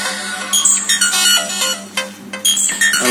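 A Nokia XpressMusic mobile phone ringtone plays a bright, chiming electronic melody in quick repeating notes, loud and close.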